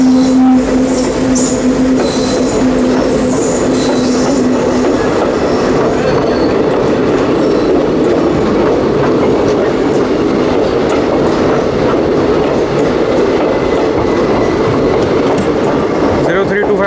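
The Azad Hind Express pulls in on the main line, a heavy continuous rumble of coaches rolling close by with a brief wheel squeal early on and someone talking under the noise.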